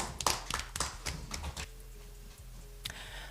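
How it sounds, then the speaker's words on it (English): Scattered clapping from a small audience at a university debate competition, a handful of hands patting unevenly for about a second and a half before it thins out, with a couple of faint claps following. "Let's give them a round of applause."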